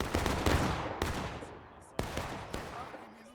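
Musket volleys in War of Rights at Bolivar Heights, several sharp cracking reports at roughly one-second intervals with ragged echoing tails, moderately distant and layered over a busy battlefield din.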